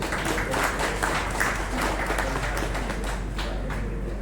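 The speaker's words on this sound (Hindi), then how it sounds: "तालियां।" A room of chemist association members in Sonipat applauds, steady, dense clapping throughout with sharp individual claps poking out, no talking over it.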